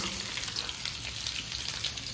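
Sliced potatoes fry in a pan in a steady, dense sizzle, close and continuous, with no voices.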